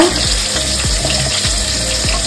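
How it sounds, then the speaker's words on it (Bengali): Potatoes fry in a hot pan for a Bengali chicken kosha, giving a loud, steady sizzle with soft repeated stirring scrapes and no talk. "আলুটাকে একটু লাল লাল করে ভেজে নেবো"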